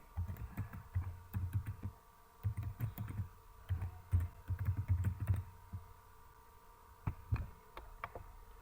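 Someone types an email address on a computer keyboard: bursts of soft, close key clicks in quick runs separated by short pauses, over a low steady electrical hum.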